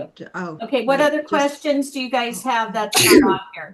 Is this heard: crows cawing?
no